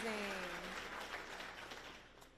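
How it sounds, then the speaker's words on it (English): Faint applause from a crowd at a school closing celebration, steady clapping fading slowly, with a voice trailing off at the start. "Y'all give her another big round of applause."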